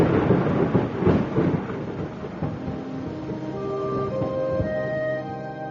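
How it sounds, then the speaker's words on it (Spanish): A deep rolling rumble of thunder builds and then fades into a low, sustained murmur, loud at first and heard alone without voices. "entre rayos y truenos"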